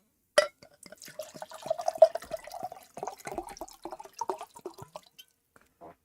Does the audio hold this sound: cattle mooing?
no